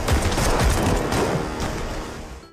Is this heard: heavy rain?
no